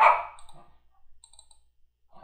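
Mouse double-click while working in FreeCAD, a couple of short faint clicks close up in near silence.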